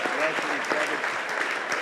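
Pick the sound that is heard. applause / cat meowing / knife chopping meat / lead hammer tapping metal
applause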